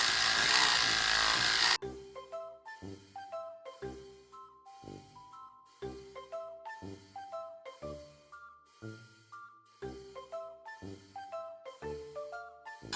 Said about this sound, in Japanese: ジルコエボでですね、頑張って削ってみたいと思います